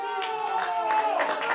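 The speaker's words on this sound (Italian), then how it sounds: "sentite gli applausi del pubblico" Scattered applause and clapping from spectators at an amateur Italian second-division (2a Categoria) football match in Messina, a loose patter of claps under a steady, prominent voice.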